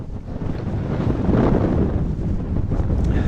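Strong wind gusts outside an RV at a solo camping spot, a loud continuous rushing and buffeting that swells and dips without pause, with no voices.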